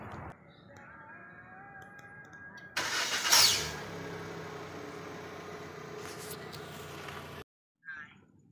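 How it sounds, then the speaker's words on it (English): Proton Saga MC2 car engine starting in the morning with an abnormal extra sound after it fires, a brief cranking burst that catches into a steady close idle, with a high whining note near the start. "There's an additional sound after the engine is start."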